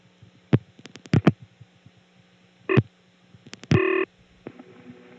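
Cut-in sounds of a 1976 step-by-step telephone exchange at Yellow House, Pennsylvania: sparse mechanical clicks and relay clacks, then short bursts of tone, heard close on a quiet line.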